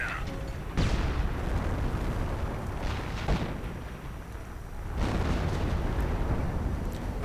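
An artillery barrage of high-explosive shells falling on German lines in a wargame, heavy booms landing at intervals over a continuous rumble while a voice talks over the top.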